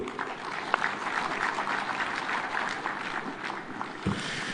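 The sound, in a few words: audience applause after a speech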